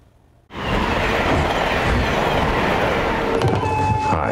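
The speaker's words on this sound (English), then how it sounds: "Brad Pitt rides the bullet train." A bullet train in a film trailer comes in abruptly as a loud, dense rumble with rattling wheel noise that holds steady to the end, with a few higher squeals near the finish.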